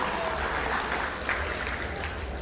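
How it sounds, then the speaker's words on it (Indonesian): Steady applause from an audience at a BPJS Kesehatan health program event, a dense continuous wash of clapping that holds evenly throughout the moment. "Tepuk tangan sangat meriah untuk BPJS Kesehatan."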